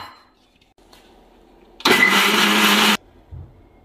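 A kitchen mixer grinder blends an amla and coconut chutney with salt and water, a loud steady whir that starts abruptly, runs about a second alone and then cuts off.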